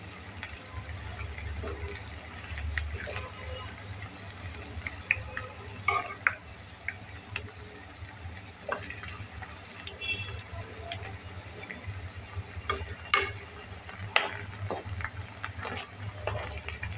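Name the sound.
cauliflower pakoras frying crisp in oil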